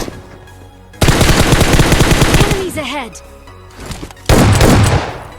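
Bursts of automatic gunfire in PUBG Mobile, a long rapid volley followed by a second loud burst, with someone talking over the action.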